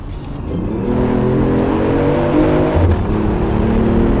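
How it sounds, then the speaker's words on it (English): A BMW i8's three-cylinder engine revs up loudly, its tone climbing in pitch, dropping briefly, then rising again with a raspy, buzzy growl. "this is the best-sounding three-cylinder engine in the world right now"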